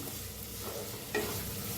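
Green chillies roasting and being stirred in a hot pan with turmeric and salt, a steady low sizzle with a brief scrape of the spoon partway through, close and moderate in level.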